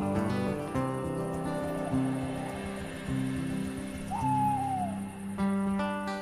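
A barn owl near street lamps and a church tower around midnight gives a single drawn-out screeching call, clear above a steady hiss of rain.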